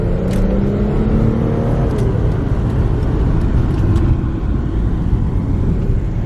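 A Mitsubishi Verada's 3.5 liter Cyclone V6 revs with a loud, steady engine drone, close by, with the pitch climbing briefly early on and holding throughout.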